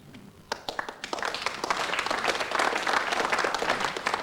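Applause breaks out from a crowd at an indoor bowls tournament, a few scattered claps at first, then swelling into steady, full clapping that carries on to the end.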